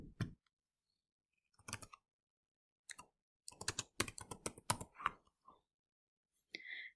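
Bursts of typing on a computer keyboard, sparse single clicks early on, then a denser run of keystrokes in the middle with short pauses between groups, close and fairly quiet.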